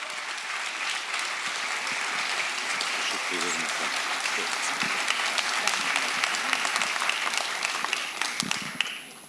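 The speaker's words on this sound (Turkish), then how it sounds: "derneğimizin kıymetli başkanı Sayın Mustafa Akyüz'ü alkışlarınızla mikrofona davet ediyorum" An audience gives sustained applause at a Turkish music conservatory association's 75th anniversary concert, a dense, even roar of clapping lasting several seconds as a speaker is welcomed to the microphone.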